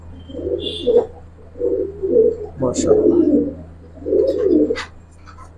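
Giribaz pigeons released in a pair give several soft, low coos in short bursts, with a bright chirp and a rustle in between, close by and under a voice.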